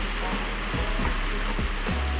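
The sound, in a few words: beef sizzling while browning in pressure cooker and pan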